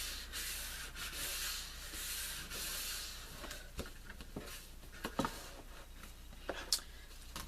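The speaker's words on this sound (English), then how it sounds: "Gotta rub that down really good." Paper being rubbed down firmly by hand while assembling a stationery folio, a steady close scratchy rubbing that runs throughout, with a few sharper taps and scrapes toward the end.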